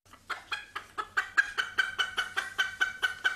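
Chickens cluck in a steady, rapid series of about a dozen close, fairly loud calls at a farm that houses retired racehorses, with no talking.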